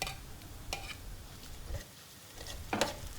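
Garlic and annatto are stirred in a hot pan, a faint low sizzle broken by a few soft scraping strokes of the spatula, quiet and close.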